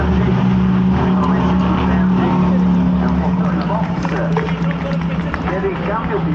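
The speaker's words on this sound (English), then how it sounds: "la BMW di Valentino Rossi che in questo momento rientra ancora ai box" Valentino Rossi's BMW race car rolling into the pits with a steady engine drone and tonal hum, while a commentator talks over it throughout.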